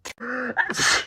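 A single sneeze sounds close and loud, with a sharp breath drawn in before the forceful burst.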